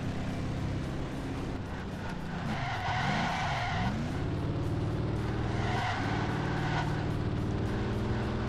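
A race car in the video game Ford Racing 3 roars steadily at high revs, with tires skidding and squealing through turns; the engine is loud and continuous from start to finish, with no voices.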